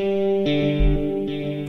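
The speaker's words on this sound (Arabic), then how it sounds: "وليكن الصوت ده مثلا، صوت الجيتار ده" An Omnisphere guitar patch played through Scaler 2 sounds as sustained, heavily processed chords with distortion and chorus-like shimmer, the harmony shifting twice in under two seconds with no voices.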